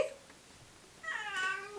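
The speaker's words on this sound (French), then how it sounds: "En général, c'est quand je parle qu'il miaule." A house cat meows indoors, a short tonal call with rising harmonics heard close by after a brief moment of quiet.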